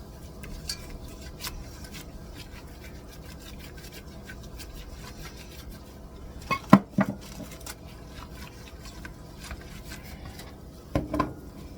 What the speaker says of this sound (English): I'm adding the flour. I'm just gonna give that a good whisking